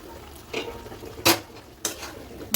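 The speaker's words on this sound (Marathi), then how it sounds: "याला आता आपण छानपैकी मिक्स करून घेऊया." Chopped pumpkin being stirred in a metal pan, with several separate scraping clinks of a spoon against the pan at uneven intervals over a quiet background.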